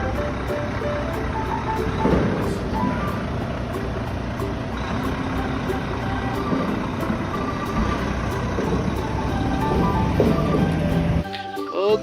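A toy tanker truck gives off a steady mechanical whir with rapid, regular reversing beeps, and the sound shifts abruptly near the end.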